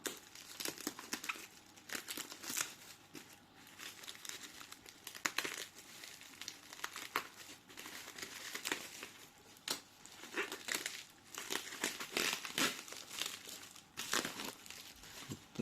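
A radio wrapped in bubble wrap and taped up is unwrapped, with continuous close crinkling, rustling and tearing of plastic for the whole stretch.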